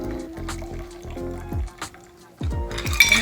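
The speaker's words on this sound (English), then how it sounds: "we're just going to strain it directly into the Collins glass" A cocktail is strained straight into a Collins glass, liquid splashing and trickling in short pours with a few clinks, close and moderately loud.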